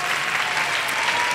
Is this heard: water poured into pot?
no